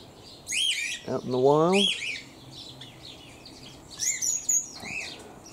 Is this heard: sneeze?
no